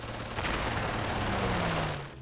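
Rapid machine-gun fire from an aircraft strafing in a World War II strategy war game, a dense continuous rattling burst lasting a couple of seconds, fairly close, with no voices.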